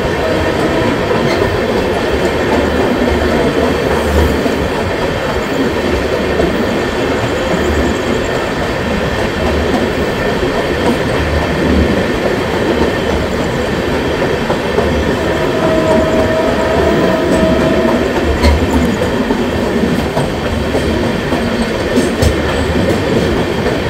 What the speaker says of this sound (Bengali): ট্রেন এখন কিষানগঞ্জ ঢুকলো।